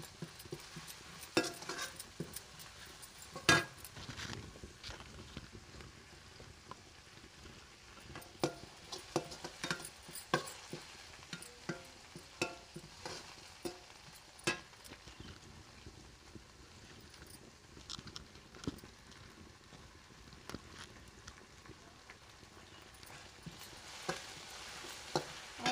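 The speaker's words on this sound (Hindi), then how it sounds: "तो देखिए इसमें हमने मेथी और जीरा और प्याज लहसुन और हरे मिर्च ये सब हमने डाल के तेल में तल लेते हैं" Fenugreek seeds, cumin, onion, garlic and green chilli frying in oil in a home kitchen, a soft steady sizzle broken by scattered light ticks and occasional stirring taps, with no voices.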